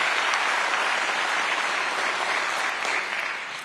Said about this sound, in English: just limiting that applause so we can make sure that our candidates are able to hear the questions